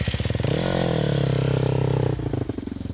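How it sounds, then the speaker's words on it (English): A motocross motorcycle engine at a pro motocross race in India roars loud and close, its buzzing pitch climbing and holding steady before dropping off sharply, with no talk over it. "Did you hear the sound of that engine?"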